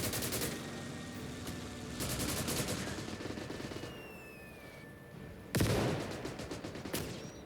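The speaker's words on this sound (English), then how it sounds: "Mortar still firing away." Mortar fire in the video game Call to Arms: Gates of Hell booms among crackling battlefield gunfire, with heavy bursts of shots at the start and again near the end.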